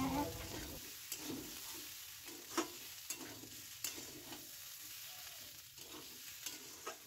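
Mixed vegetables for a vegetarian curry are stirred in a pan, giving rhythmic, fairly quiet spatula scrapes over a soft, steady sizzle.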